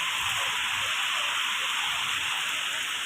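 Rain falling in a village, a dense, even hiss of drops on surfaces that continues unbroken and close, with no voices.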